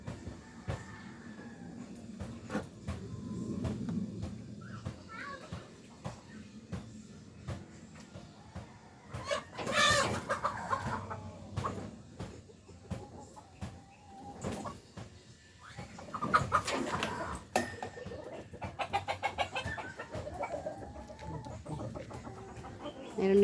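Hens clucking at a backyard poultry spot, scattered soft clucks and calls at mid distance with intermittent louder bursts of background noise, and a brief bit of talk.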